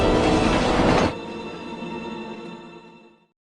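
Loud rushing roar of a speeding train that drops off abruptly after a second, leaving a fading rumble with ringing metallic tones before silence.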